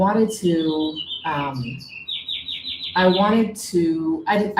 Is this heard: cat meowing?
no